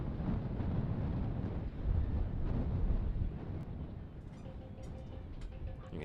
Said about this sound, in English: You can hear the wind whipping about in Fresno.